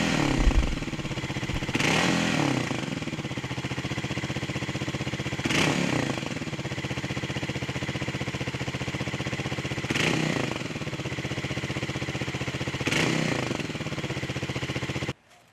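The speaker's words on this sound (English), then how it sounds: "Well, the bike seems to be revving okay." Kawasaki KLX300 dirt bike with a flashed ECU, secondary throttle valve removed and a modified exhaust, idling near and revved in four short blips spaced several seconds apart, with no talk.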